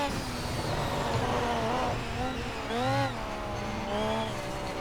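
A race car in Project CARS, StanceWorks Track Expansion DLC, drives with a steady engine drone whose pitch rises and dips through gear changes and acceleration, loud and continuous, with a voice faintly present beneath.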